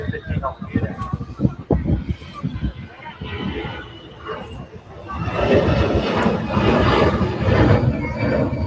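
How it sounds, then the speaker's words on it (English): An Airbus A320 jet takes off at Manchester Airport, its engine roar rising to a steady loud rumble in the second half, heard from the ground under scattered talk. "Next aircraft at far, EGCC A320 on its way to the German city of Munich."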